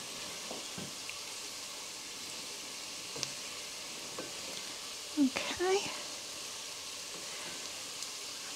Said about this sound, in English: I think this is sauteed enough